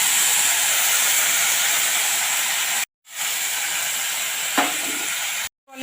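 Water is poured into a hot pan for a Bengali katla fish sour curry with homemade dried mango, producing a loud continuous hiss and sizzle that cuts out twice, with no voices.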